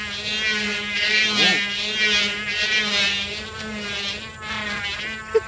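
A bamboo flute fitted to a kite made from rice-sack string hums steadily and loudly, a continuous buzzing drone with wavering tone that holds throughout.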